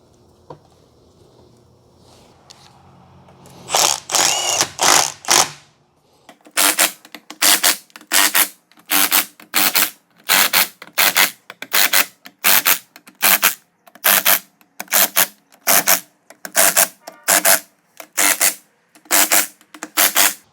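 A ratchet wrench tightens 14 mm bolts on a Honda B-series transmission case, moving around in a circle: a quick irregular burst, then a steady run of loud, evenly spaced clicking strokes close by, with no talking.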